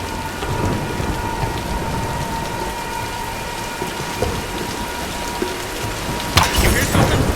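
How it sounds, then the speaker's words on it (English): Steady heavy rain and rolling thunder from a storm in Tomb Raider Definitive Edition, a constant dense wash of rainfall with a sharp crack near the end. "let's wait out the storm"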